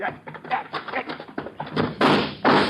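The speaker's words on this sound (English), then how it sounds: "we dive for the door and bolt it behind us" A heavy door slams shut with a solid thud and is bolted in a radio drama about a mine disaster, landing as two loud bursts near the end after a run of hurried voices.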